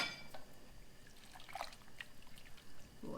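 Water sloshing and swishing inside a half-filled metal can, faint and close, with light liquid splashes.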